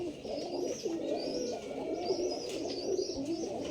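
Rajshahi Giribaj pigeons coo inside a cage, repeated soft throaty calls rising and falling close by, with a few faint chirps mixed in.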